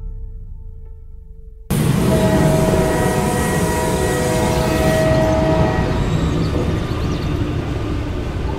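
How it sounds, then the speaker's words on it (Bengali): Train pulling into a station, a loud, continuous rumble and roar that starts abruptly after a quiet moment and holds steady with a faint tonal whine, close and filling the space. "বিলাসপুর স্টেশনে ট্রেন থামতেই লাফিয়ে প্ল্যাটফর্মে নেমে পড়ল উৎপল।"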